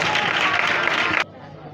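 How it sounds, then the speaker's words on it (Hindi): Audience applause for children at a church Christmas program, a dense burst of many hands clapping that cuts off abruptly near the end, leaving a quiet room. "आइए बच्चों के लिए जोरदार तालियां बजाएं।"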